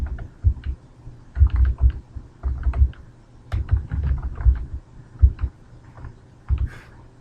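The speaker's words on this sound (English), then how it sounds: "we're going to type in concrete curb" Someone types on a computer keyboard in irregular bursts of close, crisp key clicks with short pauses in between, with no other sound around it.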